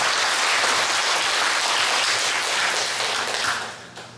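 Hall audience gives full, dense applause during a Buddhist monk's talk. It runs strong and even, then tapers off in the final second.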